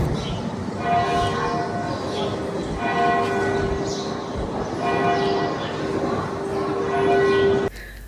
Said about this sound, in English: maybe a church bell somewhere in the distance